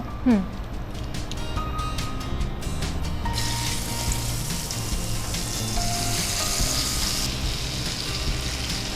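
Potato slices frying in hot oil give a steady, loud sizzle throughout, with brief clinks and stirring at the start and voices talking over the frying.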